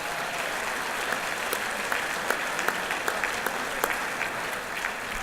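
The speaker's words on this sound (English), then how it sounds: "let's give them another round of applause" A large audience applauds at a union leadership conference in a hotel ballroom, sustained dense clapping with a few sharper individual claps standing out, fairly close and with no talking.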